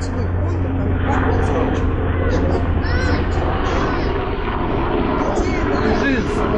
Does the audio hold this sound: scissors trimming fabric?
no